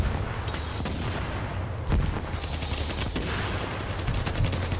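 Gunfire in Tom Clancy's The Division, Clear Sky DLC on PS4: rapid bursts of automatic rifle shots and sharp single cracks crackle continuously through a firefight, fairly loud, with no talk over it.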